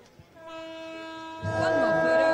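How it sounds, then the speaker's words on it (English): Pit lane opening signal at Sepang circuit on a Blancpain GT Series Asia race weekend: a steady horn-like tone sounds, then swells into a louder, denser blare with broad noise, as if other sounds join in. "the noise you heard in the background a moment ago was the pit lane opening for the next race"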